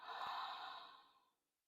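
A single deep, slow exhale through the mouth during a beginners' yoga breathing exercise, close and soft, fading out over about a second.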